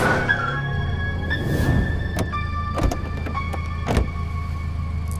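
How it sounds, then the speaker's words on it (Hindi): A car leaves a paved road for a dirt track and comes to a stop, its motor and rolling rumble steady and close, broken by several sharp knocks and clunks from the body. "गाड़ी पक्की सड़क छोड़कर कच्चे रास्ते पर चढ़ जाती है और फिर बांस और चीड़ के पेड़ों के बीच रुक जाती है"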